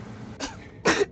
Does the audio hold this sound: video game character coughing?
yes